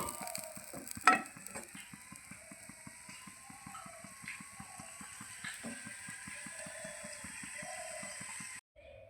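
A thick aloo methi paratha stuffed with potato and fenugreek greens pan-roasts slowly, giving a soft steady sizzle with a regular ticking beat and a few sharp clinks, close by and with no talk.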